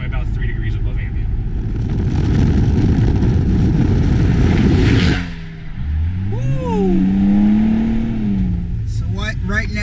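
A Ford Edge Sport pushed hard through twisty roads: a loud, dense engine and road roar that suddenly drops away, then a rising, swooping engine note as it pulls again.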